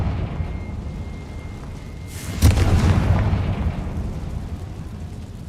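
A Confringo explosion spell from the game Hogwarts Legacy: a sudden loud, deep boom bursting in midway, then a rumbling, fading tail over a steady game background.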